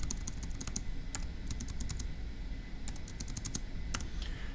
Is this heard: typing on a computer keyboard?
yes